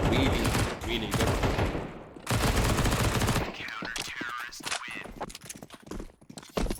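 Gunfire in a Counter-Strike match on the Nuke map, esports broadcast, with dense bursts of shots and broad crackling noise, broken by a short quieter gap and over loud caster commentary.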